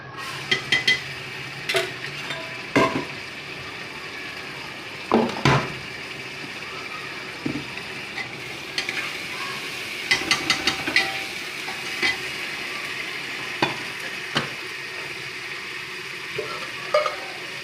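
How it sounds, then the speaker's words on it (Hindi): Garlic ginger paste in a pan, with a soft steady sizzle under repeated sharp clinks and scrapes of a spoon stirring against the metal, close and without talk. "ये मैं डालूँगी ये वाला 1 चम्मच लहसुन अदरक का पेस्ट।"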